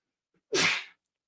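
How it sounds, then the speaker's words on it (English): A single loud, sharp human sneeze bursts out close to the microphone, lasting under half a second, preceded by a faint intake of breath and followed by silence. "Big sneeze."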